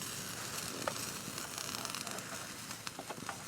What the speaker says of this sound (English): you're starting to be able to hear some sizzle going on in there